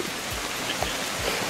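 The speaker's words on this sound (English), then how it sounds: "in some pretty horrendous rain." Heavy, steady rain pours outdoors during a motorcycle trip, a dense even hiss with scattered drops, close and constant throughout the short moment.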